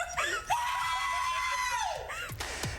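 A man screams for joy at seeing his daughter smiling with her braces off, one long sustained high-pitched shriek after brief excited sounds, followed by short gasping cries.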